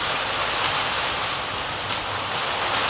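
Heavy rain pours down in a dense, unbroken rush that stays loud and even throughout, with no voices over it.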